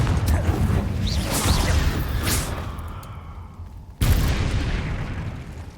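An explosive Confringo spell goes off in Hogwarts Legacy with a loud, booming blast, then a fading rumble, followed by a second sharp burst near the end.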